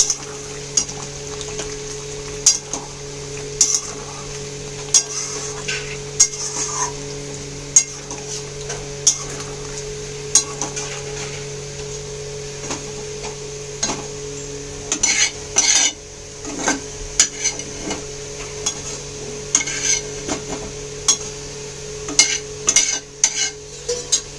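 A spoon stirs and mixes chicken do pyaza in a hot pan, its repeated scrapes and knocks against the metal over a steady sizzle of frying, close and unaccompanied by talk.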